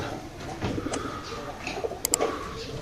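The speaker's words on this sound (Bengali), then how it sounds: "এটা হলো আমার দুলাভাই কবুতর পালেন" Domestic pigeons coo softly in a village loft near the Bangladesh border, low rounded calls repeating at moderate distance with a few faint chirps over quiet outdoor background.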